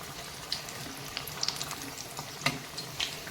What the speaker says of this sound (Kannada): ಎಣ್ಣೆಯಲ್ಲಿ ಬಿಡುತ್ತೆ ಅದು ನೋಡಿ ಈಗ ಚೆನ್ನಾಗಿ ಇದು ಈಗ ಫ್ರೈ ಆಗಲಿ ಎಲ್ಲ ಕಡೆ